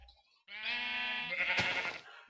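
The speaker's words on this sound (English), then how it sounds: "we also have a sheep farm in the back here that automatically shears the sheep" A sheep on a video game sheep farm bleats once, a clear, drawn-out wavering call lasting over a second, close and alone.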